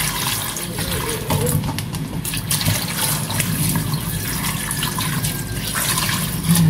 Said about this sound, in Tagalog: Mas lalagyan na natin ng tubig yan.